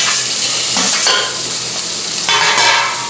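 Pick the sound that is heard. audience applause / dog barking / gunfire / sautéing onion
sautéing onion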